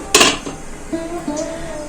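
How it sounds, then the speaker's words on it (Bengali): A metal wok of spinach clanks down onto a stovetop with a short clatter, followed by a few lighter knocks and a faint steady hum. "পালং শাকের কড়াইটা এইদিকে বসিয়ে দিলাম"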